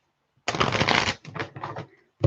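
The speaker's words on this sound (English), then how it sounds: "One more good shuffle." A deck of tarot cards gets a quick riffle shuffle up close, a dense crisp burst of flicking followed by two shorter rustling bursts and a final snap, with silence between.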